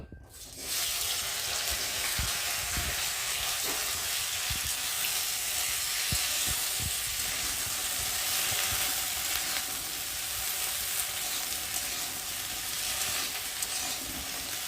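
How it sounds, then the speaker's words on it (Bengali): Okra (bhindi) frying in hot oil gives a loud, continuous sizzle that starts abruptly and holds steady. There are occasional faint clicks underneath and no talking. "আর এখন আমি ভেন্ডিগুলোকে দিয়ে আগে ভেজে নেব"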